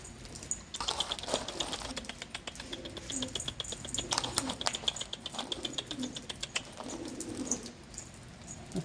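A captured wild feather-footed pigeon, close by and faint, gives soft coos among sharp scrabbling and fluttering taps that come in uneven bursts.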